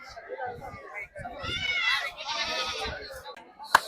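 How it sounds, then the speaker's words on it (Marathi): Goats bleating at a large weekly goat, sheep and poultry market in Maharashtra, with tied-up animals calling in repeated overlapping wavering cries amid crowd chatter, ending with a sharp close knock. "इकडे ज्या विक्री झालेल्या शेळ्या असतात त्या इथं बांधून ठेवलेल्या आहे बघा"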